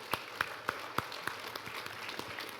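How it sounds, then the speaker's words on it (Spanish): Faint, sparse applause: a few scattered claps in a steady rhythm over a low background hum, distant and thin rather than a full crowd. "un aplauso para eso sí"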